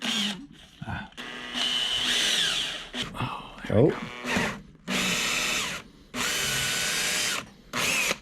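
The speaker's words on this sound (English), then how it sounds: "We're gonna drill, see if we can drill this lock out." A power drill whirs in several bursts of varying length, stopping and starting, drilling out the metal lock of a stash box on a chopper motorcycle up close, with a brief voice heard between runs.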